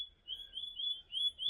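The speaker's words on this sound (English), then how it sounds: "Birds are going psycho" A bird repeats a thin, high, steady whistling call in a few sustained phrases at a quiet riverside camp on the Murray River, alone against near silence.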